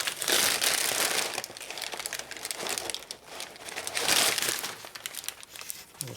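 Moist paper crumpling and rubbing while smoothing JB Weld epoxy during a motorcycle disc brake conversion, close continuous crinkling with louder bursts at the start and near four seconds.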